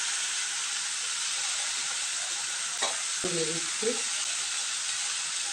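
Mustard spice paste fries in a pan with a steady, loud hiss and sizzle throughout, and a brief spoken word breaks in partway.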